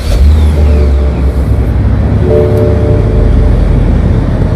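A 2002 BMW 750Li with automatic transmission starts up and its engine revs, a loud, close low rumble that swells and settles into a steady idle with no one speaking.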